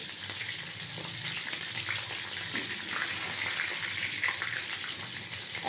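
Chicken pieces for chilli chicken fry in a pan with a steady, dense sizzle that runs the whole time, occasionally broken by soft scraping as they are turned.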